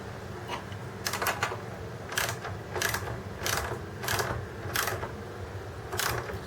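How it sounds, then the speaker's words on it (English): A Craftsman double open end wrench tightening the mounting bolts of a Central Forge 4-inch bench vise, giving a series of about seven evenly spaced metallic ratchety clicks and scrapes, close and clear. "Using my Craftsman double open end to get that kind of started."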